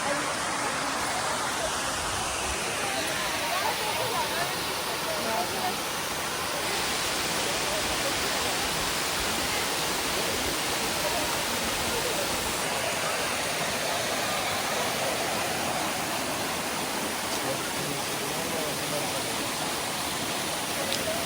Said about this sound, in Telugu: తవేరా ఇక్కడ ఒక వాటర్ ఫాల్కి వచ్చినాం